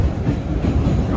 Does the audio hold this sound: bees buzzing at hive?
no